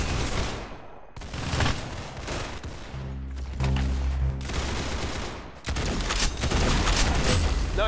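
Gunfire in the Roblox game Arsenal, dense rapid bursts of shots and booming blasts filling the whole stretch, loud and continuous with only brief gaps.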